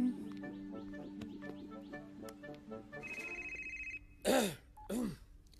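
Telephone ringing in a Punjabi film scene, a repeating electronic ring tone pulsing steadily for about four seconds, followed by two short loud vocal bursts.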